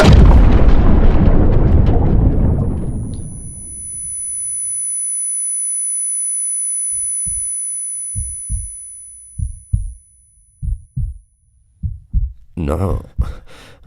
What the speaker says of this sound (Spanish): El resplandor de la explosión iluminó todo, haciendo que la noche se convirtiera en día.